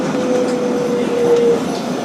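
Kawasaki R-188 subway car from 2012 running as a 7 local on the IRT Flushing line, a steady loud broadband rumble with a thin sustained motor whine that rises and fades partway through.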